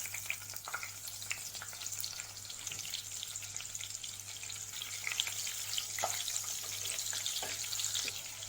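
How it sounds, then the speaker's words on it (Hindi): Slit green chilies fry in hot oil with a steady close sizzle and occasional crackles and pops. There is no talking over it. "ये तेल में हम ये थोड़ी ग्रीन चिली फ्राई कर लेंगे।"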